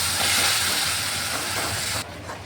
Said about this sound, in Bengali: ভালোভাবে মশলাটাকে কষিয়ে নিচ্ছি।